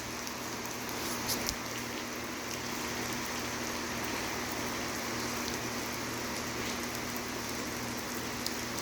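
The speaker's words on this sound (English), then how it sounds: "It was raining in El Tunco." Rain falls steadily in El Tunco, El Salvador, a constant soft hiss and patter that holds evenly throughout, with a faint low hum underneath and no voices.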